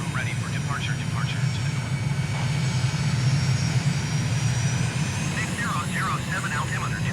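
A steady, loud drone from an aircraft engine during takeoff in Microsoft Flight Simulator, a constant low roar with a high whine layered on top, overlaid by intermittent radio-style chatter.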